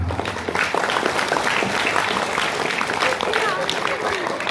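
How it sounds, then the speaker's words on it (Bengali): Dense, sustained applause from an audience at a national abacus math championship medal ceremony, a continuous wash of clapping with voices mixed in. "আমি সবাইকে অনুরোধ করব ওদেরকে সজোরে করতালির মাধ্যমে একটা অভিবাদন আপনারা জানান।"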